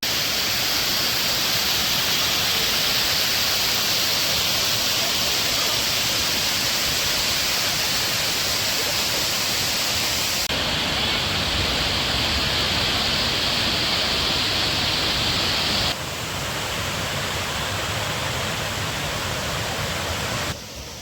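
Water rushing over Akkadevi dam at Chirner near Uran, a steady, loud, broadband roar with no talk, dipping slightly in level toward the end.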